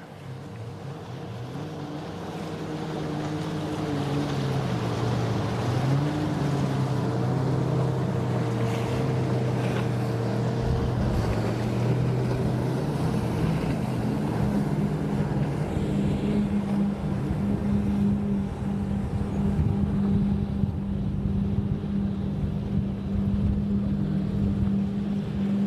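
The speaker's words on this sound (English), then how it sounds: "Can you guys hear the engines?" Midnight-brand powerboat passing through Haulover Inlet on the Fourth of July, its engines droning loud and steady for the whole stretch, swelling as the boat draws near, with wind and surf noise underneath.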